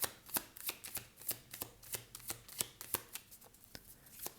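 Tarot cards being shuffled and drawn, a quick irregular run of crisp flicks and slaps, close and fairly quiet, with no talking.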